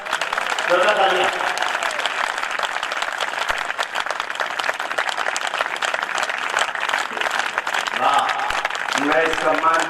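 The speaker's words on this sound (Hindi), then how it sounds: "जोरदार तालियां" Loud, sustained applause from a large audience at an all-India Hindi poetry recital (kavi sammelan), a dense continuous roar of clapping that runs the whole stretch with voices calling out over it at the start and end.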